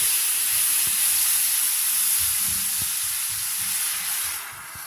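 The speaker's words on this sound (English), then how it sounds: "You have to watch that steam. That steam will get you." Steady, loud hiss of steam as hot water is poured into a pan for gravy, continuous and broadband, easing off slightly at the very end.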